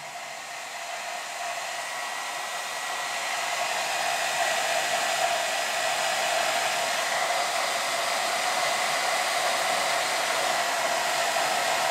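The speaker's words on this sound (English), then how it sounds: "I'm going to now just dry this a little bit with my hairdryer." A hair dryer blows steadily on a watercolour painting with a constant airy whoosh and motor whine, rising slightly in strength early on, then holding even with no talking.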